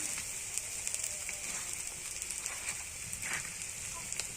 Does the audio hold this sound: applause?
no